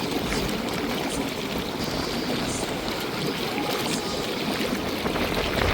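Bubbling water churns in a hot tub aboard a cruise ship, a steady dense hiss and gurgle close to the microphone, unbroken and even in loudness throughout.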